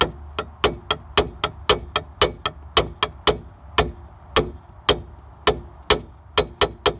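A wrench bangs repeatedly on a car heater fan, about twenty sharp metallic strikes in uneven rhythm, loud and close with no talking.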